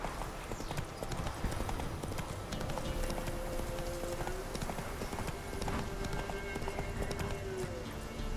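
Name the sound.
horse hooves clip-clopping in a video game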